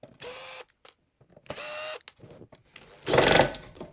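A small electric screwdriver whirs in three short bursts, backing tiny screws out of the back panel of a Boss Katana 50W amp. The last burst is louder and rougher, with faint clicks in the gaps.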